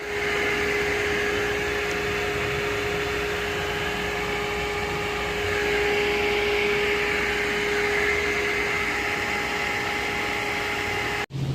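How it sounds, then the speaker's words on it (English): A honing machine works the cylinders of a 3.0 BMW engine block in an E46 budget rebuild, giving a steady, loud mechanical whine with constant tonal hums. It stops abruptly at the very end. "now time for the honing on the block"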